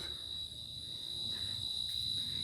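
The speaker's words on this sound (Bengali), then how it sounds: "এটা হলো প্রাকৃতিক মিউজিক, ঝিঝি পোকার ডাক।" Crickets chirp at night at a quiet, lit hillside spot in Bandarban, a steady high-pitched trill that holds unbroken and close throughout, with no voices.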